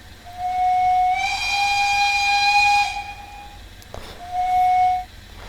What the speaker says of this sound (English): Here's your whistle.